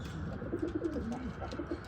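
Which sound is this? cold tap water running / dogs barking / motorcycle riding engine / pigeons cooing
pigeons cooing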